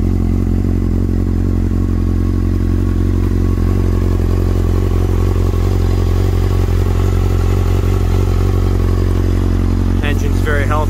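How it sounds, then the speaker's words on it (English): A 2003 Honda CBR600RR sport bike idles steadily and loud up close, a dense continuous engine drone with a brief clatter near the end. "Engine's very healthy, no ticking."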